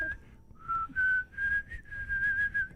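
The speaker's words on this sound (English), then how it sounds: "One of the great whistle intros." Whistled melody from the intro of a song, a clear, steady tune of sustained and sliding notes in phrases over a faint background murmur.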